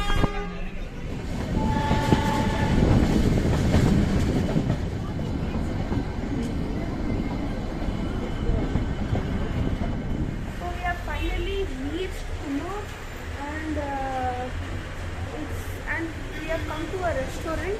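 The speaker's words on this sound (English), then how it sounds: "So finally the train has started moving." Train on the Ooty to Coonoor line pulling away, with a loud sustained rumble and rattle of the cars, then horn-like tones and squealing wheels as it moves, voices heard over it.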